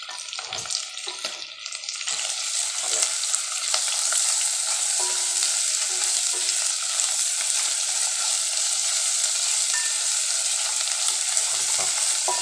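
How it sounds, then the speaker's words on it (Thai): Loud, continuous sizzling of sliced beef stir-frying in a hot pan, with occasional scraping of a utensil stirring, close and steady throughout. "เอาเนื้อที่เราหั่นเนี่ยไว้เนี่ยฮะใส่มาเลย โอ้เลยผัดเลย"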